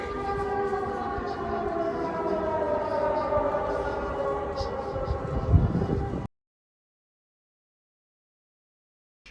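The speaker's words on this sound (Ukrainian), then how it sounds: "у Львові почалась повітряна тривога" An air raid siren wails in Lviv, a steady, loud, sustained tone with layered harmonics lasting about six seconds before stopping abruptly into silence.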